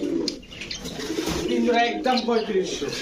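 Pigeons of fancy breeds such as Kaldom, Chila, Gorra and Giribaz coo in low, rolling notes close by, with someone talking over them throughout.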